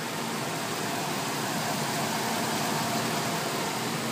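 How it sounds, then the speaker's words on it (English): A 2005 Dodge Durango V8 engine idles steadily up close, a continuous broadband rumble with no talking and no change in pace throughout. "I wanted to give you an opportunity to hear the engine for yourself."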